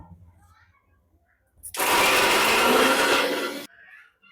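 A kitchen mixer grinder grinding ginger and garlic whirs loudly for about two seconds, starting abruptly and cutting off, with faint talk before and after.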